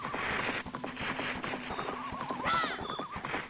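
In Zelda: Majora's Mask, a game horse trots with steady clip-clopping hooves and gives a brief high whinny near the end. Game music and effects run underneath.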